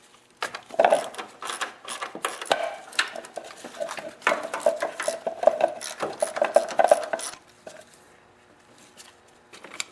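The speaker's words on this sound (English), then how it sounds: "Just going to grab my ratchet with a 10mm socket." Ratchet with a 10mm socket removing bolts on a Honda snowblower, bursts of rapid clicking with metallic clinks, close and fairly loud, then quieter.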